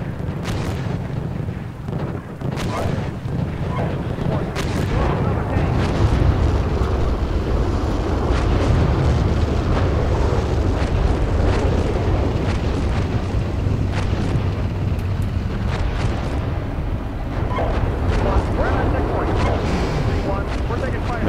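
Tank cannon fire and explosions rumble through a Cold War armored battle on the North German Plain in a tank simulator, with a constant heavy low roar, sharp intermittent blasts and radio chatter over the top.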